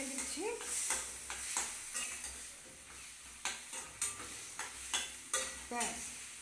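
A spiced potato curry is stirred in a pan, a ladle scraping and knocking in repeated strokes over a gentle sizzle, the strokes growing sharper and more rhythmic toward the end.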